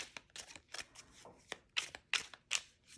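Pocket-size Tarot of Trees cards with a semi-gloss finish being shuffled by hand, a string of soft papery flicks and riffling bursts that sharpen into crisper snaps toward the end, close and fairly quiet with no talking.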